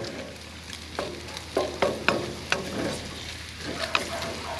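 Canned spiced ham sizzles in a pan while being fried for pork-fried rice, with a steady crackle broken by several scraping stirs of a utensil.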